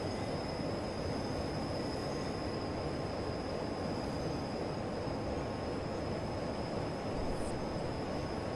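A train pulling into a station in Train Simulator 2015 on the Portsmouth Direct Line, a steady loud rumble of rolling wheels and carriages with a faint high whine running throughout.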